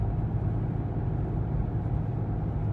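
Toyota FJ Cruiser on the move with loose, wandering steering, giving a steady low engine and road rumble that holds at an even level throughout, with no voices.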